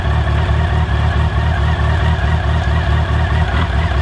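An old Yamaha FJR1300 motorcycle with a weak battery runs at a steady, loud idle close by, its low engine pulse repeating evenly throughout with no voices.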